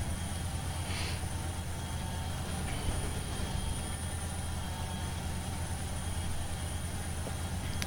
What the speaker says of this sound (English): Well, this part of the train's going downhill.